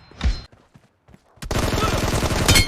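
Headshot gunfire in the BGMI battle royale mobile game: a short burst of shots, then a brief quiet stretch, then dense, loud continuous automatic fire with crackling impacts that lasts to the end.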